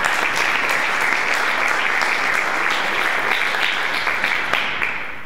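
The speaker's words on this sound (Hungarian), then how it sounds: "Egy taps jár nekik is." A live audience at an evening event in a university hall gives sustained, steady applause, dense and close throughout, with no voices over it, easing slightly near the end.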